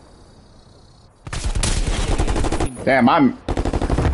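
Rapid automatic gunfire in a first-person shooter, loud and dense bursts over about three seconds, with a brief break where a voice exclaims before the firing resumes.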